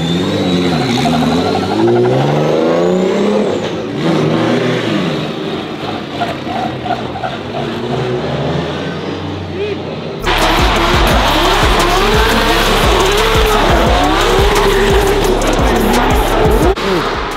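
Formula Drift race cars approach, rev hard and skid with loud tire squeal. Engine whine builds before a sudden, very loud close pass of screaming tires and roaring engines.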